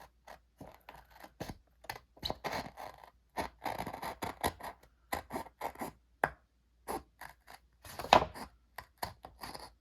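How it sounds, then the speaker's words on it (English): Crisp, quiet snips and scrapes as scissors trim the edge off a paper planner page, coming in quick irregular bursts with short pauses between them. "just cutting off this edge here"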